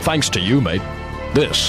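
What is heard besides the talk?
None of the usual background noises is heard.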